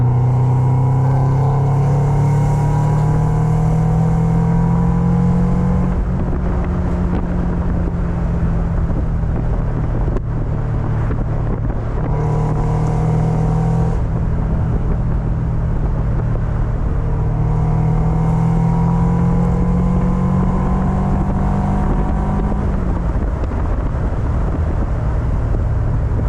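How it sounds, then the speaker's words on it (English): A 2001 Mazda MX-5 Miata NB2 with a manual gearbox drives at highway speed, its engine drone loud and steady from inside the cabin, the pitch dipping and settling as it shifts up into sixth gear. "Put it in 6th gear and see what it's like as if we're on the highway."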